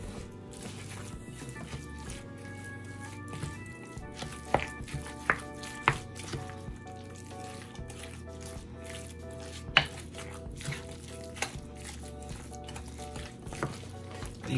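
About 2 pounds of ground beef mixed by hand with eggs for a skillet meatloaf: soft wet squishing and occasional sharp clicks, heard faintly under steady background music.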